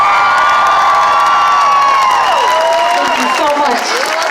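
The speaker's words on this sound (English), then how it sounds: "Let's give one more round of applause for Gaza." Rally crowd at a Free Palestine event cheering and whooping loudly, sustained shouts and voices layered over clapping, fading slightly toward the end.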